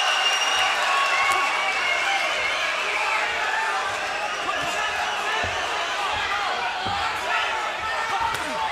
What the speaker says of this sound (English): Crowd loves it.